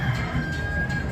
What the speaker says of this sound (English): Got cocks going off in the back and everything. I mean roosters.